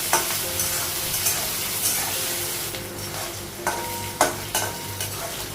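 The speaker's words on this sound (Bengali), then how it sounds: "আলু বা পেঁয়াজটা ভাজা হয়ে গেছে মশলাগুলো লাগাবো" Potatoes and onions fry in a pan on a home stove, with a constant sizzle punctuated by stirring scrapes and a few clinks of the spatula against the pan.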